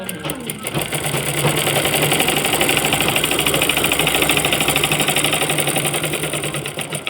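A sewing machine stitches a palazzo, loud and near, with a rapid mechanical whirring rhythm that ramps up and runs steadily, while a person talks over it.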